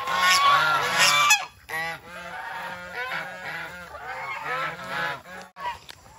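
Large geese honking among turkeys in a farm pen, repeated loud nasal calls in overlapping bursts, close by with short pauses between.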